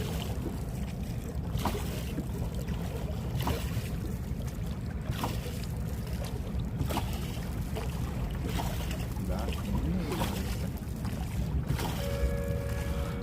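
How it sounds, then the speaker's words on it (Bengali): A wooden fishing boat runs out from Patenga beach into deep sea water, its engine and hull wash forming a steady rumble with splashing and wind noise throughout. "নৌকা হারুন কাকার নৌকা নিয়ে এখন অনেক অনেক গভীর গভীর সমুদ্র বন্দরের ভিতরে আমরা ঢুকে গেছি"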